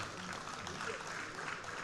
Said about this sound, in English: Please have a round of applause for the sir.